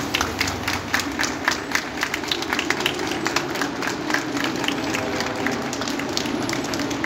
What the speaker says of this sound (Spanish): todos merecemos un fuerte aplauso